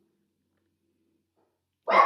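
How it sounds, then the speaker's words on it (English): A dog on guard gives a single short bark right at the end, after near silence. "Don't know what she's barking at."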